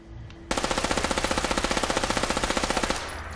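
An HK MP7 submachine gun in Fallout 4 fires a sustained fully automatic burst of rapid, evenly spaced shots for about two and a half seconds after a quiet lead-in, loud and close with no voice.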